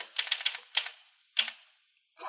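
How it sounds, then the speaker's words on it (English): A typewriter clacks in short bursts of keystrokes, quick taps grouped together with small pauses, fairly quiet and close. "I'm typing while I'm talking to you"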